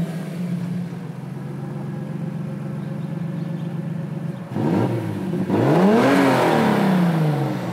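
A 2JZ-swapped Toyota Tacoma with a full 3-inch Tanabe exhaust and turbo, heard from close by: a steady idle rumble for about four seconds, then loud revs climbing and falling in pitch as the engine accelerates.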